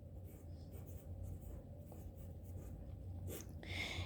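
Pen or pencil writing in notes, faint scratchy strokes with brief pauses and a few louder scrapes near the end, close by and without talking.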